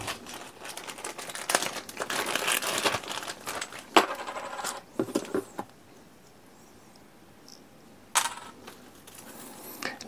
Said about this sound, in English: let me quickly unpunch everything so we can move to the card anatomy